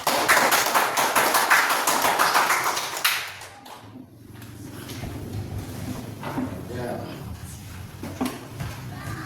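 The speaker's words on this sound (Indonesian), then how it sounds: "Tepuk tangan untuk" Applause breaks out in a classroom for a student group, a burst of many hands clapping for about three seconds before it fades into room noise with faint voices.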